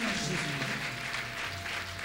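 Steady, moderately loud applause and cheering from a church congregation fills the room, with a faint low hum running beneath the clapping throughout.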